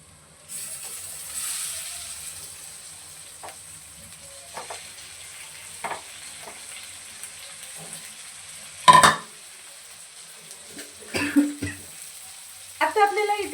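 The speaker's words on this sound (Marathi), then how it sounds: "आता आपण याच्यामध्ये बांगडे धुवून ठेवलेले आहेत ते आपण टाकणार आहोत।" Mackerel sizzling in hot spiced oil in a pan, a steady frying hiss throughout with occasional utensil taps and stirring clatter, close and moderately loud.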